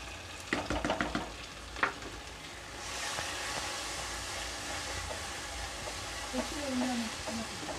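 Chicken masala and turmeric powder sizzling in a pan while cooking masala macaroni, with a few clinks and stirring sounds at first, then a steady, close frying hiss that runs to the end.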